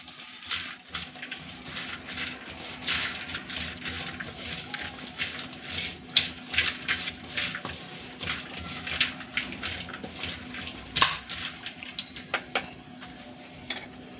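Onion bhaji batter being mixed with a pinch of salt in a bowl, giving steady close scraping and clinking of a utensil against the bowl with soft wet stirring throughout, no voices.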